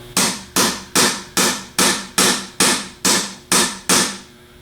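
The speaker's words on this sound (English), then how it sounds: "tap straight down on the head of the Phillips head with a hammer" Ten sharp metallic hammer taps on a screwdriver extension seated in a Phillips screw head, rebuilding a Denso internal fan, land at a steady, even pace, each ringing briefly before the next strike, close and loud.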